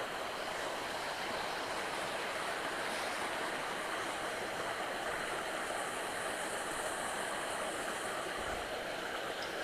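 Linda Creek runs steadily over the rocky Marguerite Cascades, a constant broadband rush of water at moderate distance with no voices.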